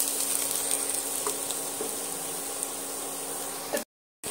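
Fried eggs go into a pumpkin curry and sizzle in hot oil, a steady hissing fry with a few soft stirring scrapes. The sound cuts out abruptly near the end.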